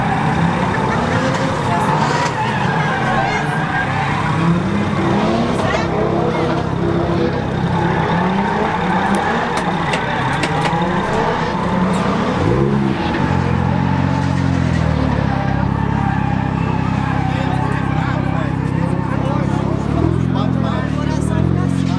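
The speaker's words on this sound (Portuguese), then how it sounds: "Os brazuca aqui, gente, brincando de drift aí" Cars drifting at Atlanta Motor Speedway during a drift show, a loud sustained engine roar with rising and falling revs and tyre noise, crowd babble and people talking nearby throughout.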